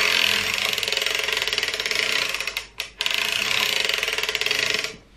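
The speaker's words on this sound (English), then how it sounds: "I am going to pull down and crank around so that the machine gets threaded" An Erlbacher Gearhart Speedster sock knitting machine is cranked round, giving a close, steady mechanical clatter of ratcheting needles and gears with a brief pause midway before the cranking resumes, then stops.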